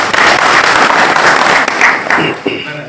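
A crowd applauding at a village cooperative society's 95th annual general meeting in Kalambhe, Satara, a dense burst of clapping lasting a few seconds that fades toward the end.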